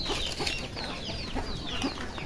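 Backyard chickens, grown birds raised from chicks, cluck and chatter in a dense, continuous flock sound close by, with overlapping short calls and no voices.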